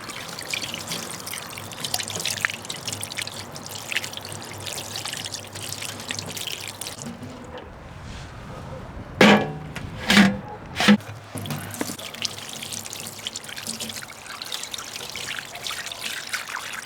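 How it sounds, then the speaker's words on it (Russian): Running water rinsing salt off dorado fish, a continuous trickling pour with splashy rubbing, briefly broken by a few louder knocks and gurgles midway before the flow resumes. "просто смываем соль"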